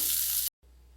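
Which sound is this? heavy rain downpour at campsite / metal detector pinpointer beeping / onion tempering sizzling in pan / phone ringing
onion tempering sizzling in pan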